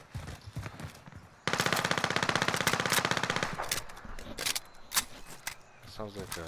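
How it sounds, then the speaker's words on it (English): A decoy gun in a video game fires a rapid, sustained burst of automatic shots, followed by scattered single shots and clicks, while players talk over the gunfire. "Sounds like a decoy gun."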